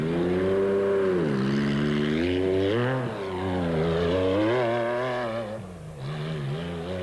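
A Toyota rally car's engine drives flat-out through mud up a slope, heard as a loud, sustained roar. Its pitch rises and falls as it revs and shifts, close by, with no talk.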